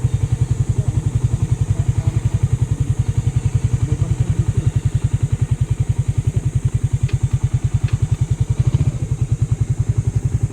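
Motorcycle engines idle steadily in a parking area at Paniman beach resort in Ternate, Cavite, a continuous close, loud low chugging pulse throughout with faint clatter.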